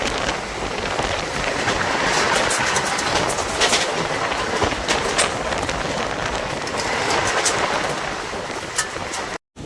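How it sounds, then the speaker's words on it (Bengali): A Balurghat–Malda passenger train rumbles along the rails near Gangarampur station with a continuous roar and rhythmic clacks, loud and close, ending abruptly. "আমাদের ট্রেনটি এখন এসে বসে হচ্ছে গঙ্গারামপুর স্টেশনে"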